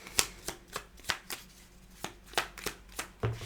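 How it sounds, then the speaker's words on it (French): Small tarot oracle cards are shuffled by hand in a quiet room, giving a run of crisp, evenly spaced riffling slaps and taps with no talk. "je vais tirer une petite carte du petit oracle du tarot"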